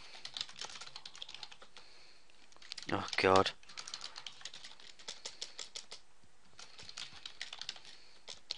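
Rapid clatter of a computer keyboard being typed on during a Minecraft session, quick irregular keystrokes running near and fairly quiet, briefly interrupted by a short spoken exclamation.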